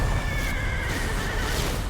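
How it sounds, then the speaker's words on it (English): A horse neighs in the Rocket League video game, a clear, whinnying call standing out over the steady game noise for a couple of seconds. "And I think that was a horse."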